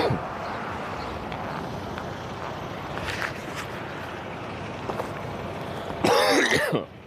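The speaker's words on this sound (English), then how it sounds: "Sorry for the coughing sounds." Repeated coughing and throat clearing from a man on a live-streamed hitchhiking trip, several rough bursts spread across the stretch over steady outdoor background noise, ending in a louder, harsher throat-clearing burst near the end.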